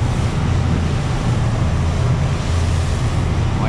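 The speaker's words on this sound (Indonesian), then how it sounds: "Lumayan ombaknya gede ya." Big ocean waves surge under strong wind and rain at sea on a mackerel fishing trip, a loud, steady roar of surf and wind buffeting the microphone throughout.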